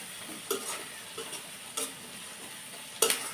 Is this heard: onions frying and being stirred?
yes